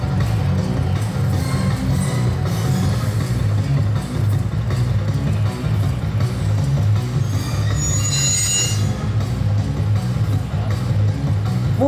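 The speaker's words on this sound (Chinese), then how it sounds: "目前我们抢修列车已经抵达事故现场" An Alishan Forest Railway repair train pulls into Beimen Station during a safety drill, its wheels squealing in bright, sustained high-pitched shrieks over a heavy, continuous low rumble, the screech swelling loudest near the end.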